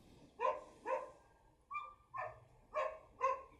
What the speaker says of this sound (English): There's dogs.